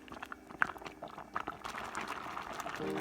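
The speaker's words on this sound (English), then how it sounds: "Continue to simmer for another 30 minutes until all ingredients soften" A pot of Chinese jujube and cubed Asian pear simmering, soft bubbling and low liquid gurgles, quiet and steady up close with no talking.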